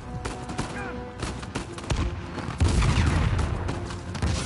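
Bursts of gunfire in the Uncharted 4 action game, dense rapid shots crackling together with a heavier impact midway, loud and close.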